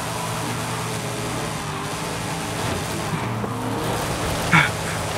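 A Dodge Hellcat engine in a Forza racing game roars continuously at high revs, loud and close, with a brief tire squeal near the end.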